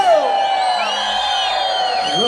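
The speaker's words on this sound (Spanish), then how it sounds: "Vamos a escuchar el grito más fuerte de esta noche." A festival crowd in Mixco, Guatemala shouts and whoops together in one sustained roar, loud and near, holding steady without a break for the whole stretch.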